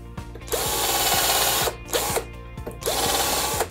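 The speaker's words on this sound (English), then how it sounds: "I'm gonna drill some pilot holes again in the timber to stop it splitting." A power drill boring pilot holes into pallet timber, heard close and loud in three bursts of high whining spin separated by short pauses, each with a slight rise in pitch as the bit winds up.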